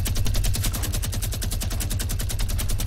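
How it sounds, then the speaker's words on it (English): A Fortnite minigun spins out a steady, very fast stream of evenly spaced shots, loud and close, with a low drone beneath the rattle throughout. "Okay, they're using their minigun."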